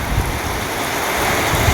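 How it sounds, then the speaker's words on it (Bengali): Heavy rain falls on a fourth-floor rooftop in Nawada, Bihar, making a loud, dense and unbroken hiss with a low rumble underneath, with no voices. "অনেক বৃষ্টি হচ্ছে।"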